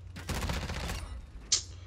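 Gunfire in Call of Duty: Modern Warfare 2 comes as a close, loud burst of rapid shots, then one sharp crack, with the players talking around it.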